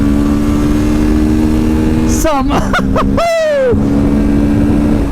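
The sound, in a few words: twin-cylinder motorcycle engine accelerating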